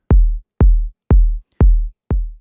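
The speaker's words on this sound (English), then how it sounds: "It's kind of like a beefy kick basically, and sounds like this." Beefy modern techno kick drum struck five times at an even, steady pace, each hit loud and punchy with a deep booming tail that cuts off short, playing alone.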